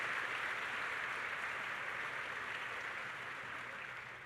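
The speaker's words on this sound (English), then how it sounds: "Can we give our international students a round of applause?" A graduation ceremony crowd gives a round of applause for international students at a spring commencement, a dense, steady wash of clapping, distant and soft, gradually fading.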